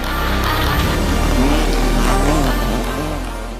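A Peugeot 208 Rally 4 rally car engine runs loudly and close by, its pitch climbing and falling as it is revved, with no talking.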